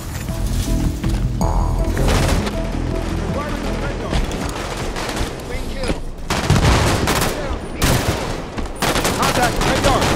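Heavy gunfire in Halo 5: Guardians multiplayer on the Eden map, continuous bursts and impacts layered with explosions and game voice callouts, loud and busy throughout.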